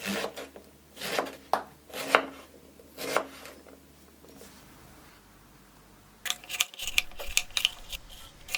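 Eggplants being cut with a knife on a board, a series of crisp, separate chops in an uneven rhythm, then a short pause before a faster run of cuts, close and clear with no speech.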